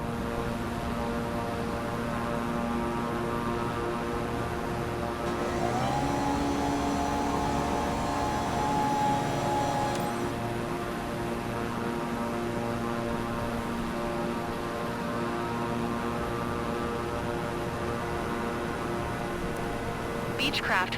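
Simulated Beechcraft propeller aircraft engine at full power during takeoff in Microsoft Flight Simulator, a steady loud drone with a rising whine partway through, under a voice that is talking.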